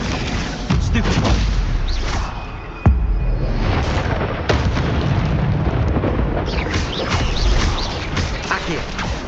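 Spellcasting booms and bursts from Hogwarts Legacy, a Stupefy blast among them, dense and loud game combat noise with sharp impacts and crackles, a voice shouting over the clamor.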